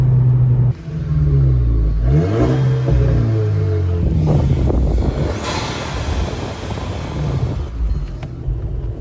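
A VW Golf GTI engine revs hard and pulls as the car accelerates, loud and close, with wind buffeting the microphone throughout and a rising, sweeping engine note.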